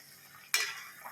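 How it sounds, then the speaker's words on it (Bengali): Koi fish (climbing perch) for a Bengali tel koi dish bursts into loud, crackling sizzle as it hits hot oil in a pan, starting abruptly after a quiet moment and continuing as a steady frying hiss. "তুলে এই তেল কই রান্না হচ্ছে"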